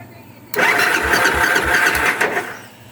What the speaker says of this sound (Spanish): Vamos a darle el arranque.